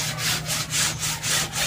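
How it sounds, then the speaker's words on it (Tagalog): Rhythmic rasping strokes of number 36 sandpaper smoothing a fiberglass boat hull, about eight even back-and-forth passes, close and fairly loud over a low steady hum. "At ang ginamit nila ngayon na liha, ito po yung number 36"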